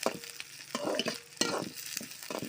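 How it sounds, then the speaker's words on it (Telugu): Sliced onions with curry leaves fry and sizzle in a pan, with repeated scraping stirs from a spatula at an irregular rhythm, close and fairly quiet. "ఆనియన్స్ని దోరగా వేయించుకోవాలి"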